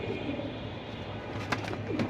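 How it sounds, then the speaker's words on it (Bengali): Soft, low pigeon coos repeat under a steady background hum, with a few brief fluttery noises near the end. "কবুতর অনেক ভালো অনেক ভালো কবুতর দেখতেও সুন্দর"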